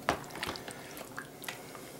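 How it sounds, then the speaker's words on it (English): Water trickles and drips into a pot of thick elk chili, with soft splashes and small irregular liquid sounds, faint and close, without talk. "add just a little bit more water"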